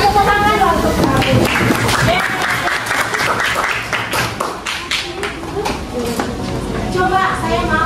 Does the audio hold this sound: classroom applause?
yes